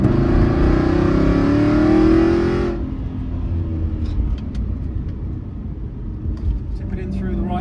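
A 2007 Aston Martin V8 Vantage 4.3 engine and exhaust roar loudly under hard acceleration with a rising rev tone, then drop off sharply to a lower, steady cruising rumble with road noise.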